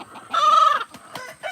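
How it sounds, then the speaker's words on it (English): A hen makes one drawn-out, odd crowing note up close, then a few short clucks, with no talking. "She sounds like Stephen doing like a crow."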